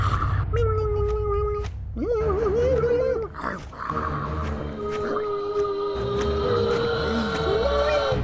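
A voice imitates a cat with a string of drawn-out, wavering meows, loud and close, with brief breaks between calls.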